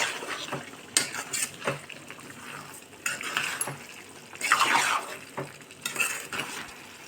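Salt being stirred into tomato soup in a pot, with scraping and clinking of a spoon against the pot in irregular bursts, close and moderately loud, and no talking.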